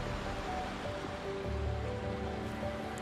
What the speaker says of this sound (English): Water was pouring into this little pool that was 3 to 4 feet deep, covered by overhanging trees